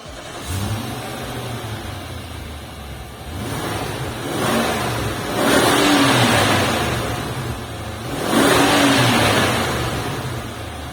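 A 2022 Nissan Patrol facelift SUV engine revs hard in three rising pulls, each swelling into a loud, deep roar before easing back, with steady engine drone between the bursts and no talking.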